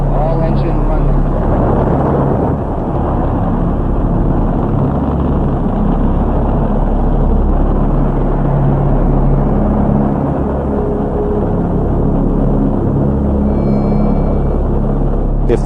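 At launch the Saturn V rocket engines give off a loud, continuous low roar and rumble that stays heavy and unbroken throughout, with a voice heard over it now and then.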